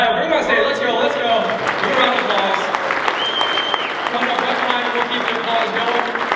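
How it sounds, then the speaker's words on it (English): A crowd at Equip Expo applauds steadily, dense clapping from many hands close by with a few cheers, sustained throughout. "give them a round of applause before we get started"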